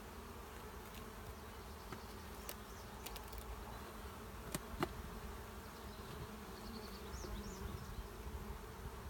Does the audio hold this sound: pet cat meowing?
no